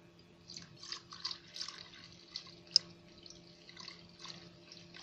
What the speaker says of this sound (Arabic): هبدأ بقى انا احط عليه عصير البرتقال.